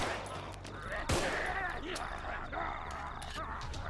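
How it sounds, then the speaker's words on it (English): Gunfire in the zombie shooter Contagion, dense overlapping shots with one sharp close blast near the middle, over a steady wash of background game noise and a voice speaking throughout. "All this gunfire."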